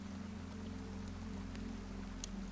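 Rain patters steadily against wooden shutters of a medieval winter castle, a soft continuous hiss with occasional faint drop ticks over a low hum.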